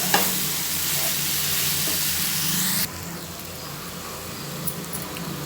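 Mutton pieces frying in a pan with salt, a strong close sizzle with stirring that drops abruptly to a quieter, steadier crackle partway through, then a couple of light clinks, no talking.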